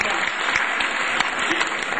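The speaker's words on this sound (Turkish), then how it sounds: "Alkışlarınızdan anlayacağım var olup olmadığını." Audience at a Turkish art music concert by a university club breaks into steady, dense clapping from a full hall, a brief burst of applause throughout with no music over it.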